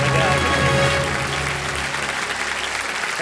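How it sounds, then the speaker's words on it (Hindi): Steady, dense applause from a studio audience on the Hindi TV quiz show Kaun Banega Crorepati, loud and continuous throughout, with some overlapping talk mixed underneath. "मैडम पहले से ताली बजा रहे हैं।"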